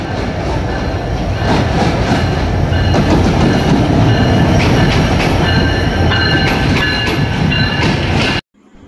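A passenger train on the move in Bangladesh, loud continuous rumble with rhythmic clickety-clack of wheels over rail joints heard from inside the carriage, cutting off abruptly near the end.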